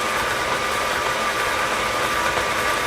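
A stand mixer with a paddle attachment churns butter-laden cookie bar dough at medium-low speed, making a steady loud motor whir with a constant hum and no pauses.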